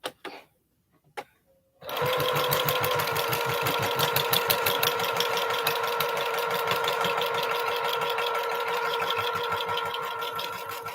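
A sewing machine stitches a quilt for a 4 Star General sew-along. It starts with a couple of brief clicks, then runs in a steady, fast, close mechanical whir that lasts several seconds.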